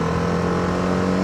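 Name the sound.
TVS Apache RR310 motorcycle engine revving as it accelerates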